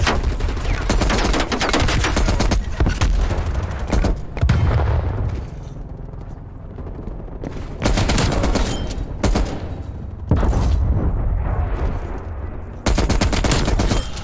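Rapid bursts of M60 machine gun fire in the video game Call of Duty Cold War, loud and close, with several sustained volleys broken by short pauses.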